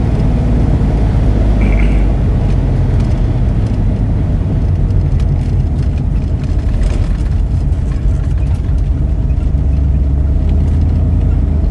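A drag racing car engine roars continuously at US41 Dragstrip during a race with a 1971 Buick Grand Sport and a 1970 Chevy, a loud, close, steady rumble with rushing wind noise throughout.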